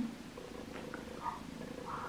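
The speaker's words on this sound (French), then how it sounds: "Elle ronronne mais elle me mord en même temps." A cat purrs softly and continuously, close by and quiet, a low steady rumble with a few faint higher squeaks over it.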